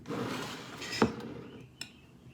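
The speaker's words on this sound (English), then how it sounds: "So I'm just gonna transfer this into the serving bowl. Got a pretty spoon for serving." Garlicky chickpeas with greens and artichokes transferred into a white serving bowl with a spoon, a soft scraping shuffle topped by one sharp clink of spoon on ceramic and a fainter tap moments later.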